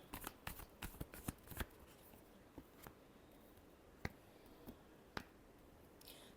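Tarot cards shuffled in a series of sharp riffling clicks, a dense flurry at first, then a few isolated snaps spaced out in a quiet room, close and fairly soft.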